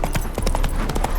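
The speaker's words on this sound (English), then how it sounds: "Spooking my horse." Roach the horse in The Witcher 3 trots with quick, rhythmic clip-clop hoofbeats, loud and close, steady for just over a second with no talking.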